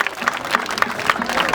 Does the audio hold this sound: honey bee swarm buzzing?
no